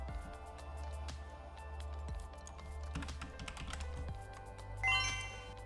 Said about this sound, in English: I'm typing it right now, okay?